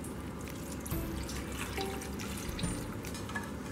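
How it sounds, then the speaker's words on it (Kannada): About two glasses of water poured into a pressure cooker for a simple vegetarian lunch, a faint, steady splashing stream with no voices. "ಇದಕ್ಕೆ ಒಂದು 2 glassಷ್ಟು ನೀರು ಹಾಕ್ಕೊಳ್ಳೋಣ"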